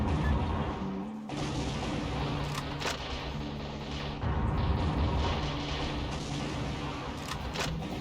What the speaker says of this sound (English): Their missile swarms keep blowing up my missile.